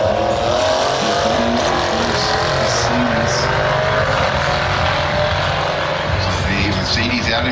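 A Mercedes AMG car roll racing at the Sydney Euro Motor Festival roars loudly and continuously, with engine drone and wind noise throughout and a brief shift in tone near the end.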